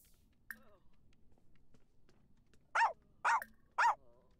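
Three loud, close barks from a dog in Sims 4, evenly spaced near the end after quieter game sounds.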